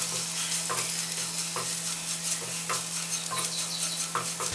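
Spices and meat masala roasting in a pan with soya chunks, an even low sizzle with rhythmic spatula scrapes recurring about every second over a faint steady hum.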